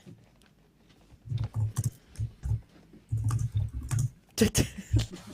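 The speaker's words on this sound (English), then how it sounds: "What's that sound? Her typing. Oh, typing." Keys clack on a keyboard on a hollow-sounding desk in uneven bursts of quick taps, close and fairly quiet, with short pauses between runs.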